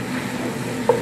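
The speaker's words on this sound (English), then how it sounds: "Stir it around these vegetables." Tomato paste and vegetables stirred in a pan for shrimp creole give a low, steady sizzle with soft scraping, ending in a brief sharper clink near the close.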